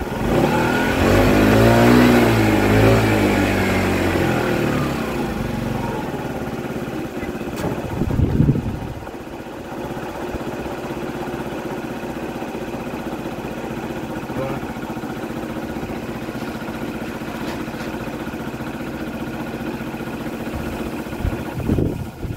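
A Peugeot Kisbee scooter engine with a manual starter revs hard at first, then settles into a steady idle with a brief blip midway and another small rev at the end.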